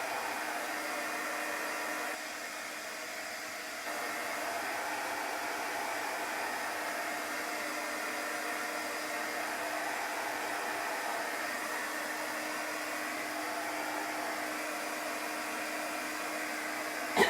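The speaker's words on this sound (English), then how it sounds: "we're going to dry that with the dryer" A hair dryer runs steadily and loudly, drying shimmer chalk paste on a wood-look Chalk Couture door tag, with one brief dip partway before the airflow returns to a constant rush.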